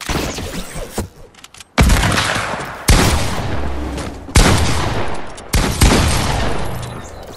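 Gunfire in the Fortnite video game: several loud, close bursts of shots, each striking sharply and then trailing off, arriving about a second apart after a quieter opening.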